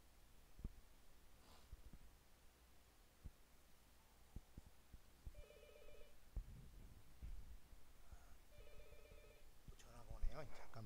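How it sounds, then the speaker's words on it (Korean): A telephone rings twice in an indoor lecture room, two short electronic ring bursts separated by a few seconds, heard faintly amid breathing and small handling noises. "전화가 오네요."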